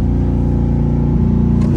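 A Chevrolet C8 Corvette Z51 with the Performance Package launching under launch control, its mid-mounted engine producing a loud, steady, harmonic roar heard from inside the cabin, with no talk over it.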